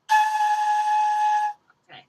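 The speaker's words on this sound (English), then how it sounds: "you're kind of getting some extra whistles coming out" A flute head joint gives off a thin, steady whistle as a player blows, a sustained airy tone lasting over a second, followed by a short breathy sound.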